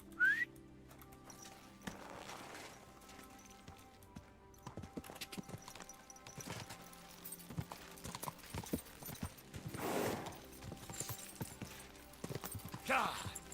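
Horse hooves clip-clop at a walk in Kingdom Come: Deliverance II, a soft irregular clatter of steps under someone talking throughout, with a brief whistle near the start.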